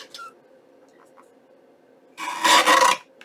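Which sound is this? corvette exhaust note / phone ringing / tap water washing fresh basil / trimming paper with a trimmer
trimming paper with a trimmer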